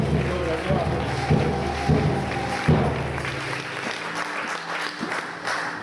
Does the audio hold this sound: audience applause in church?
yes